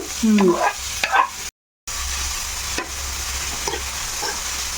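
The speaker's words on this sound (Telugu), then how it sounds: "ఇప్పుడు ఇవన్నీ కలిపి వేపేసుకుందాం" Vegetables, including chopped mushrooms, stir-fried together in a pan for veg momos, a steady close sizzle with a few scrapes of stirring and a brief dropout partway through; no clear talk.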